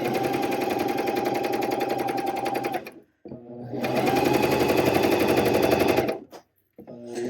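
A sewing machine stitches fold over elastic binding onto knit fabric in two long, steady runs of rapid mechanical chatter, loud and close, separated by a brief pause, with no talking.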